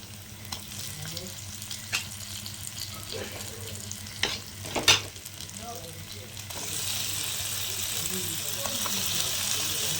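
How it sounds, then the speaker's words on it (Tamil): Quail pieces going one by one into a pan of half-cooked onions, with a steady sizzle and fry beneath some scraping and clatter; the sizzle grows fuller and louder toward the end. "இப்போ பார்த்தீங்கன்னா பாதி அளவு வெங்காயம் வந்துருச்சு இப்போ நம்ம ஒவ்வொரு காடையாக போட்டுக்கலாம்"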